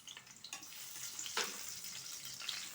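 Ginger, garlic and onion sauté in hot oil for chicken tinola, giving a steady, close sizzle with light crackles and occasional stirring scrapes and no voices.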